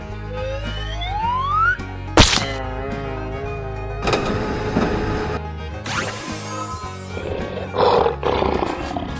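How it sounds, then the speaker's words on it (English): A lion roars loudly several times in a cartoon animal-transformation sequence, with whooshes and thuds between the roars. "Lion."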